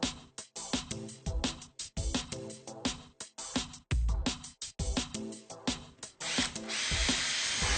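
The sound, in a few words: power drill drilling into wall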